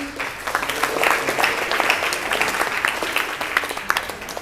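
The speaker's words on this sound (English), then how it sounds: "Let's give a round of applause to Nindi." Sustained applause from an audience after a speech at a speaking event, steady clapping filling the room for several seconds.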